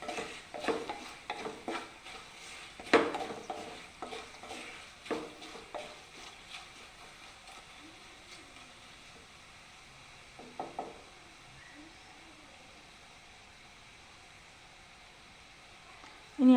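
A spoon stirs chili powder sautéing in a pan for fish pickle, giving quiet scraping and clinking strokes over a soft sizzle; the stirring is busier at first and thins out into a gentle fry, with a sharper knock at the very end.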